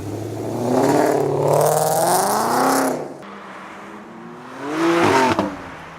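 A Ford Mustang leaving a wet cars-and-coffee meet in the rain revs hard and accelerates away, a loud rising engine note that fades, followed by a second car's revving pass.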